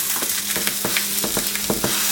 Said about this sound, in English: to add our mild Italian sausage into our preheated cast iron skillet